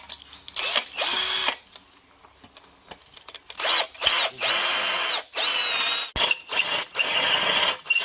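Power drill with a resharpened bit boring into steel, loud high-pitched whine in repeated bursts of a second or so separated by short pauses, close up, no speech.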